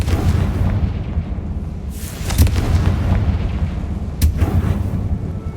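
A Confringo fire spell from the video game Hogwarts Legacy bursts in two booming blasts against a steady low rumble of in-game ambience, with no talking.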